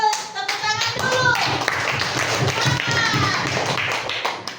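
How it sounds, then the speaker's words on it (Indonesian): Children in a classroom clap their hands together in a steady, rhythmic run of close claps, with young voices talking and chanting over them throughout. "Bagus, tepuk tangan dulu."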